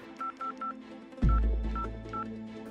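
Three short telephone keypad tones, then three more spaced out, each a steady beep, with a low rumbling thud and a sustained hum entering midway beneath the later tones.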